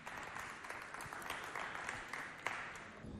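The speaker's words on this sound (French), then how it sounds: "On applaudit bien fort Roneliam." Youth audience from a parish youth coordination applauding a young poet, a soft, continuous patter of many hands clapping at a distance, fairly quiet throughout.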